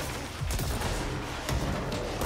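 Dense, rapid gunfire in the video game Control crackles steadily throughout, with a couple of heavier bursts standing out over a constant noisy backdrop.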